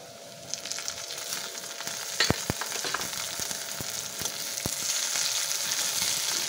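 Tomatoes frying in hot oil in a pan, a steady close sizzle with occasional sharp pops and spatters throughout.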